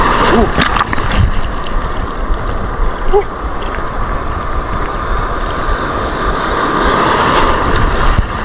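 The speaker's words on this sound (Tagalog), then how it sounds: "Yan mga buddy, ang lalaki ng alon dito. Delikado." Heavy surf rolls and crashes continuously off an island, with strong wind buffeting the microphone throughout.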